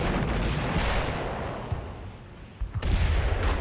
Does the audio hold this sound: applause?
no